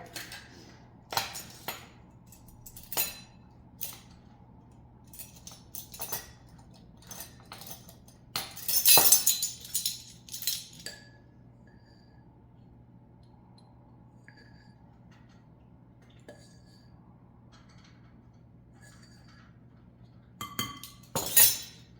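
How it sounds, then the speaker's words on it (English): Glass dishes clinking together in a home kitchen during baking, bursts of sharp chinks and rattles separated by quiet gaps, with a busier cluster midway and another at the end. "I'm just gonna bang all my glass dishes together."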